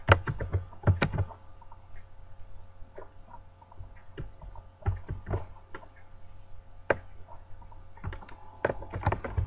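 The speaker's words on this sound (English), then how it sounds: "You then want to keep pressing Ctrl J 3 times." Computer keyboard keys pressed in a Photoshop session, sparse close clicks and taps in small clusters over a steady low hum.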